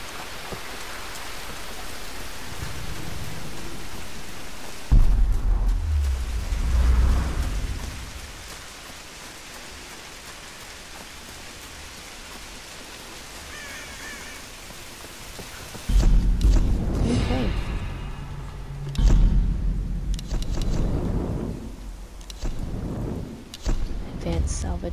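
Steady rain pours throughout a stormy scene in the video game Tomb Raider: Definitive Edition, with heavy thunder-like booms breaking in several times, and people talking over the downpour.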